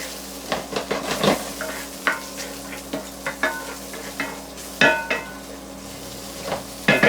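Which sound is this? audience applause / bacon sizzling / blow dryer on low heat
bacon sizzling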